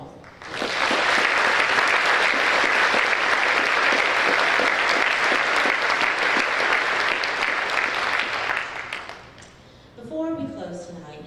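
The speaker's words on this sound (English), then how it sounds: "Another round of applause" Loud, sustained applause from a large audience at a high school career and technical education awards ceremony fills about eight seconds, then fades out, and a voice begins speaking.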